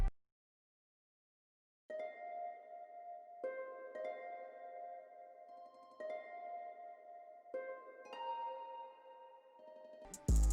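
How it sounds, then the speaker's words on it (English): A concert harp plays a slow melodic phrase of plucked, ringing notes in spaced groups, each chord decaying gently, soft and alone without talk. "for the third sound, I just wanted to use this concert harp"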